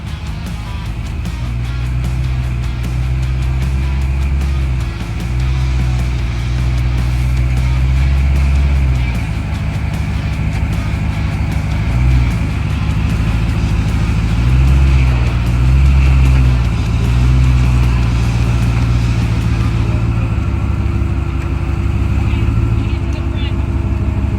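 A Jeep engine rumbles low and loud while crawling over rocks on a Level 9 off-road trail, revving unevenly in bursts, with a voice talking over the steady engine drone.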